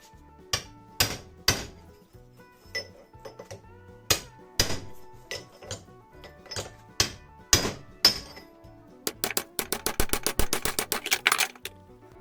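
A hammer driving a chisel against a part of a circulation pump during disassembly, sharp metallic strikes spaced irregularly, then a fast rapid run of blows near the end, close and loud with no talk.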